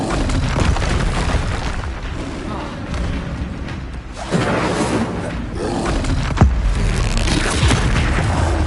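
Hogwarts Legacy spell combat with the Expelliarmus disarming spell, deep booming blasts and roaring magical impacts rumbling in bursts, loud and close, mixed with game voices.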